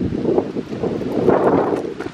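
Low, rumbling wind buffets a microphone steadily, a continuous blustery roar with slight surges and no clear speech.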